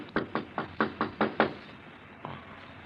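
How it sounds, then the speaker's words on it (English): A door is knocked on in a radio drama: a quick run of seven firm raps, then a pause and a single softer knock, close and clear with no talk over it. "There's someone at the door."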